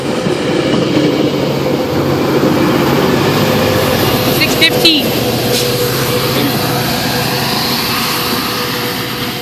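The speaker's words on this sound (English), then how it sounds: "the slow version of the Stouffville GO trains heading from Stouffville" A Stouffville GO train rolls past at Danforth, a loud sustained rumble with wheel clatter and a brief high squeal midway, close by and steady, with voices talking over it.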